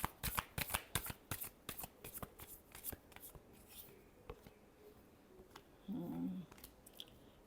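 Tarot cards being shuffled by hand in a quiet room, a quick run of crisp riffling snaps followed by softer sliding and tapping, with a brief low hum near the end.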